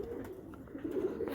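Pigeons coo in a low, throaty murmur, several overlapping calls close by and steady over a short stretch.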